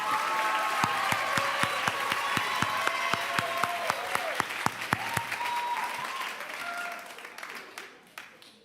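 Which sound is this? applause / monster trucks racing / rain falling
applause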